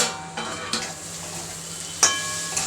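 Cabbage bhaji sizzles softly in a pan as it cooks, with a few brief scrapes and clinks of a spoon stirring it, no voices over the low, steady frying.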